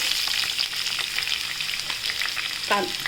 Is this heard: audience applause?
no